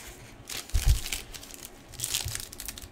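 Foil wrappers of 2016 Panini Diamond Kings baseball card hobby packs crinkle and tear open close up, with scattered rustling and one firmer thump.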